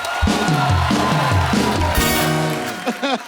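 A studio audience on a Hindi comedy talk show cheers and claps over loud, punchy background music, marking the celebration of the film Simba.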